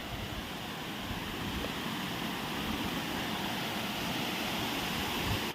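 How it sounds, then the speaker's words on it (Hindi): Gambharidihi waterfall in Sundargarh district, water pouring down from the hill; a steady, unbroken roar of rushing water fills the whole stretch with no talking. "और देखिए पानी पहाड़ से आ रहा है।"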